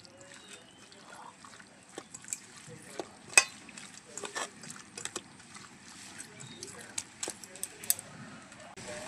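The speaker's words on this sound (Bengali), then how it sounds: "চটকানো হয়ে গেছে, এখন আমের সাথে মেখে নেব।" Green chili, salt and lemon leaves being hand-mashed into ripe mango, with soft squelching and irregular sharp clicks and taps close by, someone speaking over it at times.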